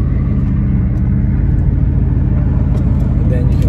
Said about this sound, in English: It starts up first try,